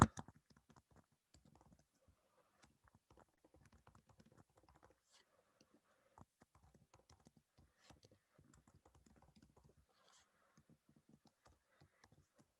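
Quiet, irregular clicking of keys typed on a computer keyboard, bursts of rapid taps separated by short pauses, faint and close, with no voice.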